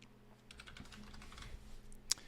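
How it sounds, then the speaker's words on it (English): Typing on a computer keyboard: a quick irregular run of soft close key taps lasting about two seconds, ending in one sharper louder keystroke, with no talk. "So you'll just type, sorry, this thing's blocking my keyboard."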